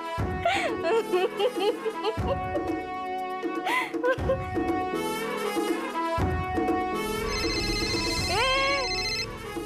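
A phone ringtone plays a bright melodic tune, loud and continuous, with brief voices and laughter mixed in.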